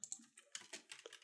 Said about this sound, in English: I can just hear keys typing.